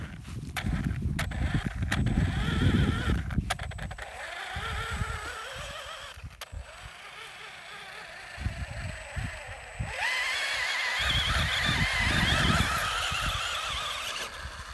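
Traxxas Slash 4x4 VXL RC car with a high-speed pinion driving through grass, a whining electric motor squealing and rising and falling as it speeds up and slows, fairly close.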